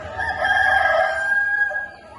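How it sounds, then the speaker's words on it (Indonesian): A rooster crows at dawn, a single loud, close cock-a-doodle-doo that rises, holds and trails off over about two seconds. "Dengar, ayam sudah berkokok."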